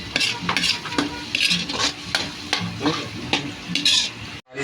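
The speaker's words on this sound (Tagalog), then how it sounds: "pwede na natin sigurong ilagay ang ating bawang" Garlic sizzles steadily in hot oil in a pan, with repeated scraping stirs from a utensil against the metal throughout, close and fairly loud.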